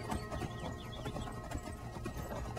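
Hooves of the horse Shadowmere in the video game Skyrim clatter in a steady, dense galloping rhythm, loud and close, with no talk over it.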